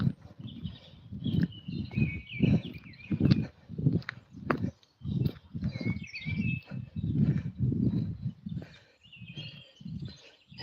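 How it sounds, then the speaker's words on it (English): Evening forest birdsong of scattered high chirps and whistled phrases, fairly faint and distant, over steady nearby footsteps crunching along a path on a dog walk. "Isn't this birdsong amazing?"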